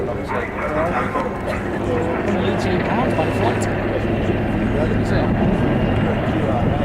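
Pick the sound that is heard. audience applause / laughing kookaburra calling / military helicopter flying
military helicopter flying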